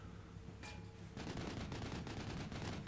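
Gunfire aimed at M113 armored vehicles in the Cold War wargame Combat Mission Cold War. A dense, rapid burst of shots and machine-gun fire starts about a second in and keeps going, loud and sustained.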